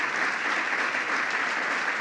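Steady, dense applause from a large audience fills the room at an even level, a continuous wash of clapping with no voices over it.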